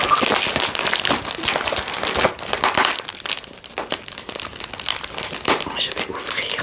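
Packaging of Nox perfumes being unwrapped, loud irregular crinkling and tearing of wrap in bursts with brief lulls, close up, with a voice speaking at times.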